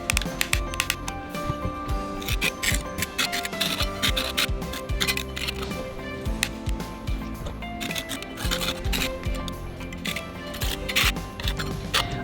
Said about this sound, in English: Use a scraper and try to level up the surface.